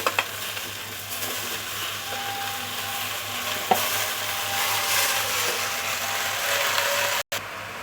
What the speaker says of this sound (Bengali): এখন আমি কেটে রাখা লাউটা দিয়ে দিচ্ছি